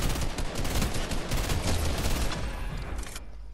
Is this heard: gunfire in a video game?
yes